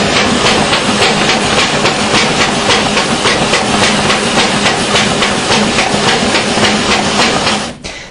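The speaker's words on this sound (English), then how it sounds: "many people do need a burster to tear that apart, cut the side trim off" A paper burster machine tears continuous forms apart and trims off the side tractor-feed strip, making a fast, steady mechanical clatter with a regular beat that runs loud throughout and stops abruptly near the end.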